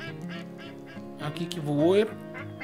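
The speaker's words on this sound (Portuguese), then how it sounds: "isso aí é pato real" Mallard ducks quack in the hunting video game Way of the Hunter, giving a run of nasal calls at moderate distance that swell near the end, while someone talks over them.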